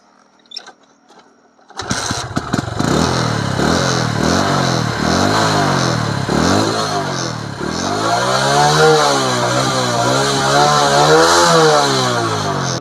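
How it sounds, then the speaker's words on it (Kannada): Hero Splendor Plus motorcycle exhaust note: after a few faint clicks the engine starts and settles into a loud, close, throbbing idle with repeated throttle revs rising and falling. "ಇದ್ರ ಎಕ್ಸಾಸ್ಟ್ ನೋಟ್ ಕೇಳಿಸ್ಕೊಳ್ಳಿ ಸೌಂಡ್ ಹೆಂಗಿರುತ್ತೆ ಅಂತ"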